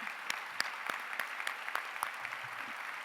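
An audience at a Long Beach school district management team meeting gives a round of applause, a soft, continuous patter of many hands with sharper individual claps standing out, heard from a distance without talk.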